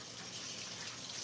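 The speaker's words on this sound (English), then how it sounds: "let me wash my hands real quick" Kitchen faucet water flows steadily as hands are washed, a soft, even hiss with faint splashing, close but fairly quiet.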